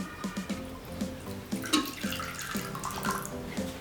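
Warm water is poured into a bowl for homemade chicken boti pizza dough, making a close, gurgling trickle with small splashes and drips throughout.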